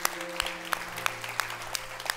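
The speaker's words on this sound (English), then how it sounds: "Can we just clap loud for Jesus, because he's amazing?" A church congregation claps steadily, faint and distant, with evenly spaced claps over a low hum from the room.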